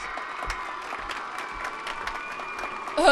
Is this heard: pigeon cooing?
no